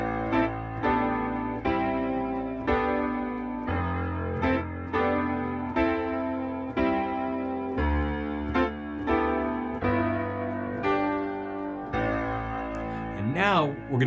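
Solo piano plays the second half of the chorus, with steady repeated chords under a melody. It sounds clear and close, and ends with a brief sliding sweep.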